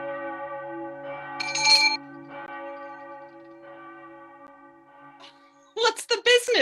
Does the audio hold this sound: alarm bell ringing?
yes